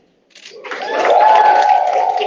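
Audience applause for city council members at a live public event, rising from quiet into a broad, steady wash of clapping that swells and holds loud.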